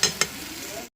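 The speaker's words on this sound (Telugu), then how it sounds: "పొటాటోస్ అయితే ఫ్రై అవుతుంది, ఒక పక్క రైస్ కూడా ఉడుకుతుంది అనమాట." Potatoes frying in a pan, a close hiss of sizzling oil with two quick scraping stirs at the start before the sound cuts off.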